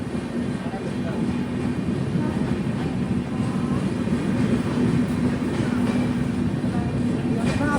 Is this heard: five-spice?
no